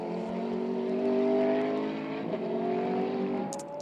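A McLaren GT race car, number 59, passes on a track near the final chicane during a GT Open race in Barcelona. The engine drones at a steady high pitch that rises toward the end, sounding moderately close, with no voices.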